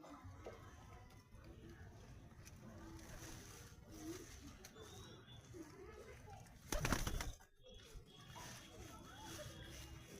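Madras pigeons peck at scattered corn grains on a rooftop, a soft continuous background of pecking and shuffling with occasional cooing and a brief burst of wing flapping, while a person calls to the birds.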